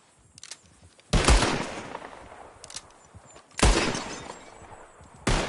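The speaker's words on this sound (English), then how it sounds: "All right, feller, you shot a bottle." Revolver gunshots shattering glass bottles in Red Dead Redemption 2: three loud, sharp shots with breaking glass, spaced about two seconds apart, each trailing a brief echo, over a quiet outdoor background.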